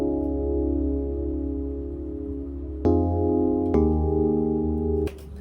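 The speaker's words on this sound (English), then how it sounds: "we are working with a Yamaha DX7 simulator that I made with this synth called Dex" A Yamaha DX7-style FM synth patch played on a software synth called Dex. Sustained, harmonically rich keyboard chords change in a few steps, held and close, with no talking.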